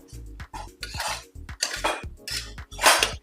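Potatoes stirred in a metal cooking pot, several quick scraping clanks of a utensil against the sides, close and fairly loud, in uneven bursts.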